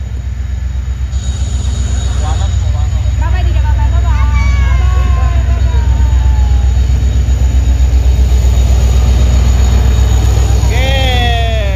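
A train passes close by with a loud, steady low rumble throughout, and high wheel squeals rise over it near the middle and end. Voices can be heard faintly under the noise.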